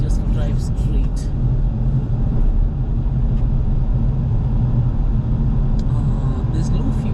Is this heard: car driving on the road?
yes